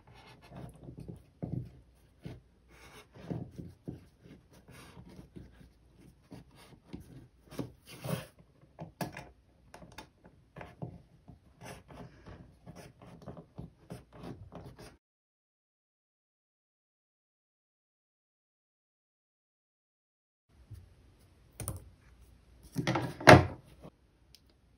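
A rod of glued rolled paper is cut while being turned, giving a quiet run of rapid scratchy scraping strokes. A pause follows, then a few louder cuts.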